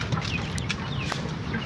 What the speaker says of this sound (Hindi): ये रहा भाई काला मुर्गा